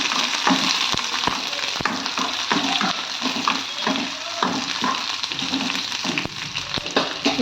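Garlic cloves and tamarind fry in a pan with a loud, constant sizzle and crackle, while a utensil stirs and taps against the pan at intervals, heard close with no speech.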